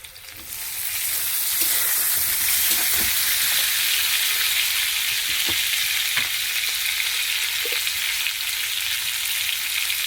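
Tomatoes dropped into onions frying in a pan for fish curry, setting off a loud, steady sizzle with occasional pops and stirring scrapes, rising quickly after a quieter start.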